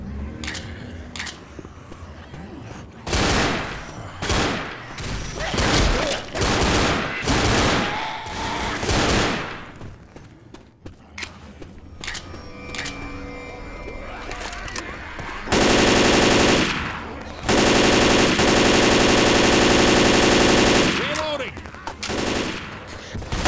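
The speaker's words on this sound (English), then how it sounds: "Assault rifle." Assault rifle fire in the zombie shooter Left 4 Dead comes in rapid automatic bursts, loud and dense, broken by pauses and other game noises.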